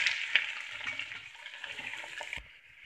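Broad beans (sem) drop into hot oil in a kadhai and sizzle steadily at close range, a bright continuous hiss with small crackles and spits that cuts off abruptly near the end.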